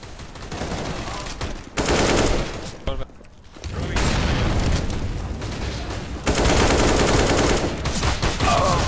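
Gunfire and blasts from a competitive Counter-Strike-style shooter match fill the stretch, with a loud burst and muffled dip consistent with a flashbang grenade going off amid continuous shooting and bursts; voices talk over it.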